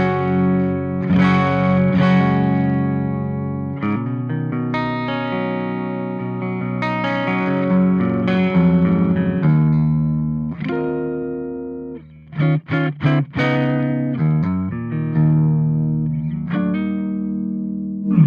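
Clean channel of a Victory valve amp played with an electric guitar, bright sustained chords and single notes ringing with clear harmonics, steady and close throughout with a few brief choppy stabs near the end.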